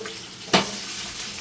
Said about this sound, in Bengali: তেল ছিটতেছে কেন বুঝতেছি না, নতুন পাতিলা দেখা।